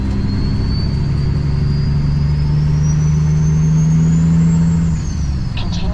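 A truck pulls onto Interstate 29 northbound with a loud, steady engine drone and road rumble from inside the cab, a rising whine above it, and a brief hiss near the end.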